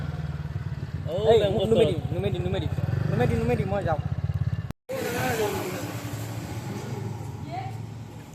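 A motorbike engine hums steadily at idle under loud nearby talk, cutting out briefly partway through before the rumble resumes.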